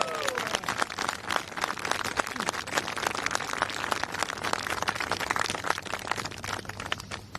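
Golf gallery at the AIG Women's Open applauding after a birdie putt on a short par 3 at the player's home club, steady dense clapping from a sizeable crowd at moderate distance.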